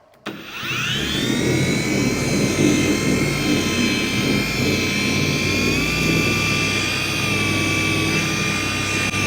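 A cordless 25mm dual-action polisher runs steadily on car paint, a continuous loud whine with a tonal hum that shifts slightly in pitch partway through, starting abruptly and holding alone without talk.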